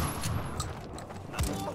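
Shotgun blasts ring out during a Medal of Honor: Frontline firefight in a town, a few sharp booming shots spaced apart over a dense background of game noise and faint voices.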